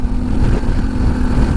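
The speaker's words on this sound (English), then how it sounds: "The Moto muffler definitely is not as loud." A Pan America motorcycle fitted with a Moto muffler exhaust gives a steady, deep, close rumble that holds an even level throughout, with no voices over it.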